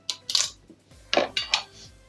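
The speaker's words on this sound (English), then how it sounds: "now I'm going to transfer it to this chopping board right here." A chilled carrot cake is shifted onto a chopping board, giving several close clinks and knocks of plate or pan against the board in uneven bursts, with no talking.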